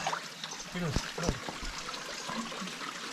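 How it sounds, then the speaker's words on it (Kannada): Water from a mountain spring trickles steadily in the background while people talk nearby on a trek up Kumara Parvata. "ನೀರು ತುಂಬಿಸ್ಕೊಳ್ಳೋದು"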